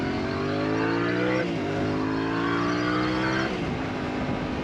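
A loud, close Yamaha Tenere 700 World Raid motorcycle engine drones steadily and climbs in pitch, dropping twice as it shifts gears, with no pause.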